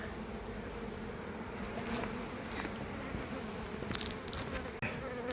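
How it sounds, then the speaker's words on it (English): Honey bees swarm around a beehive, a dense continuous buzz close to the microphone, with a few louder individual bees passing by, steady throughout. "there's a ton of bees on the back half of the hive, which Morwenna can't see"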